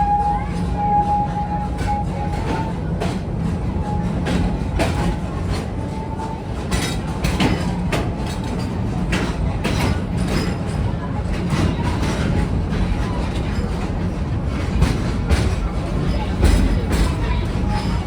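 A Busch Gardens Tampa Bay park train rolls along its rails with a steady rumble and faint clinks, a continuous ride noise throughout, with crowd babble and a voice in the background.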